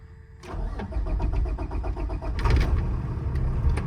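A 2018 Kenworth T370 truck with a PX9 engine cranks briefly, fires up and settles into a steady, close rumbling idle with a slight rise in revs.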